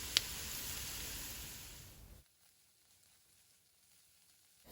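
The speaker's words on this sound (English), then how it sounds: "So I'm going to let this cook for a little bit" Onions, garlic and pepper sizzle steadily in a hot pan for about two seconds, then the frying noise drops away abruptly to near silence.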